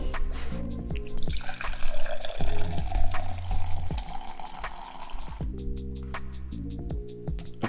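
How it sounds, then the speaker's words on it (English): Extra Strong cold brew coffee from a Wandering Bear box pours in a steady stream into a glass, filling with a gurgling, splashing flow that thins out toward the end. "Okay, pours out pretty nicely, pretty easily."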